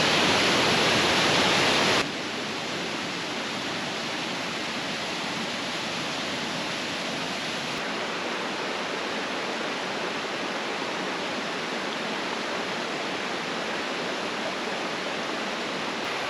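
Steady roaring rush of Sol Duc Falls in Olympic forest, constant and broadband, with no pauses, filling the whole stretch at an even level.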